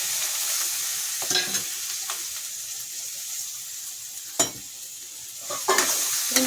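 Capsicum and coriander being stirred into bisi bele bath, a spiced rice-and-lentil dish, with a steady soft sizzle under scattered scrapes and clinks of a spoon against the pot, close and moderately loud.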